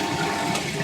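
Rushing, gurgling water as a Fisher & Paykel washing machine drains quickly after a rinse cycle, steady and close, with no voices.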